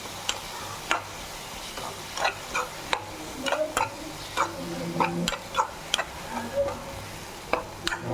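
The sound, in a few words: prawn sukka masala being sautéed and stirred in pan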